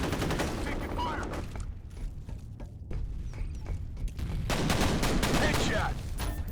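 Dense, rapid pistol gunfire crackles through a FEAR multiplayer match on the Refinery map, loud and nearly continuous, with overlapping shots and a brief dip in intensity before the barrage picks up again.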